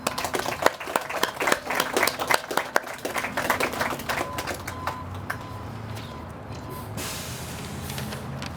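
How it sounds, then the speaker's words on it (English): Audience applause at a groundbreaking press conference for an apartment project, a dense burst of clapping that thins out and tapers off over several seconds, with faint room noise after. "Please give a round of applause"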